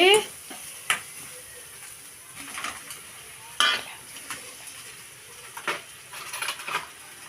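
Egg noodles being stir-fried in a pan with ginger paste, street style: repeated metal spatula scrapes and clinks against the pan over a low, steady sizzle, some strokes sharp and close, others softer.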